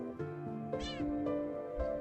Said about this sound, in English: The cat meows at you again, but it sounds much deeper than earlier.